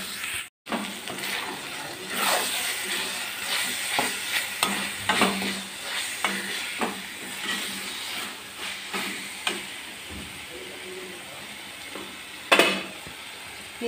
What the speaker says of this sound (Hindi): और अब इसको हम गैस का फ्लेम धीमा करके टमाटर को बढ़िया से गलने देंगे।